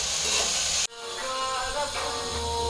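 A pressure cooker with vegetables, moong dal and a little rice (foxtail millet pongal) in a home kitchen releases steam in a loud, steady hiss. It cuts off abruptly, and a softer, wavering hiss follows.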